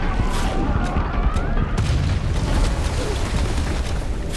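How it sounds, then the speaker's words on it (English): A bomb detonates underwater near a boat, a loud sustained rumbling roar with dense low-end boom and debris-like crackle filling the whole stretch, no talk. "the bomb's explosion nearly knocked the two unconscious"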